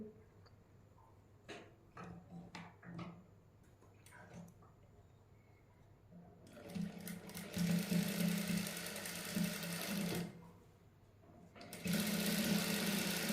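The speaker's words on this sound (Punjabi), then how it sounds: "ਨਾਲ ਨਾਲ ਸਲਾਈ ਲਾਉਣੀ ਹੈ ਜੀ" A sewing machine stitching net lace onto a garment sleeve, with a few soft clicks and handling sounds before two sustained bursts of rapid, whirring stitching separated by a brief pause, close and moderately loud.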